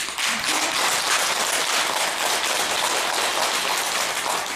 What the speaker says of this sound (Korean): 박수 소리가 나와야 됩니다